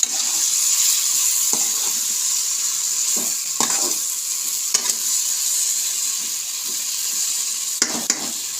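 Chili powder masala fries in a pan with a loud, steady sizzle, while a spoon scrapes and stirs it in occasional short strokes.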